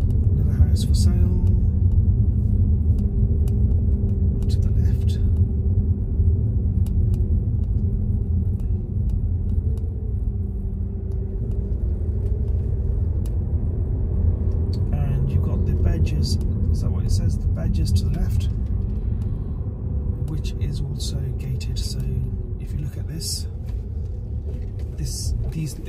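A car driving slowly along country roads: a steady, low engine and road rumble throughout, with someone talking over it and occasional light clicks and rattles.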